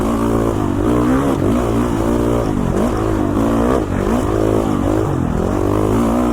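An off-road motorcycle engine revs while riding mountain single track in Idaho, loud and close, its pitch rising and falling repeatedly as the throttle is worked, with no talking.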